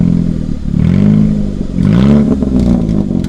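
A manual-transmission car engine idles in neutral and is revved twice, each rise swelling into a loud, close drone before easing back, with no talk over it.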